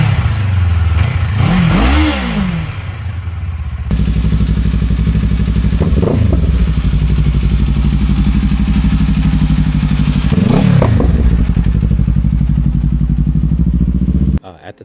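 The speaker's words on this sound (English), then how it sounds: "I've already installed a Leo Vince exhaust on the Z500" A 2026 Kawasaki Z500 SE motorcycle fitted with an aftermarket Leo Vince exhaust idles loud and close, rising in a few sharp revs before cutting off abruptly at the end.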